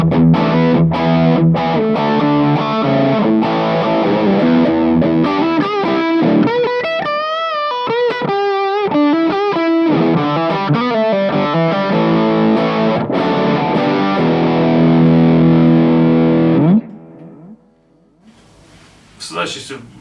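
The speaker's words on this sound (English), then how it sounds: "My Riot is my one sort of distortion sound, and that's set up for kind of heavy rhythms or leads." An electric guitar on its bridge humbucker, run through a Riot distortion pedal, plays heavy distorted rhythm chords and a few lead bends at steady loudness, then cuts to near silence before a short scrape and a burst of noise at the end.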